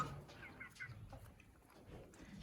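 Rooster and hens clucking softly inside a coop, several low overlapping clucks and calls at close range, with a quiet background rustle.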